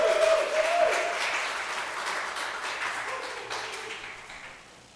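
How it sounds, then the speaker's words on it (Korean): A church congregation applauds at a devotional service, a crowd's clapping that starts strong and gradually thins and fades, with a faint tonal hum beneath the early part. "큰 박수로 여러분"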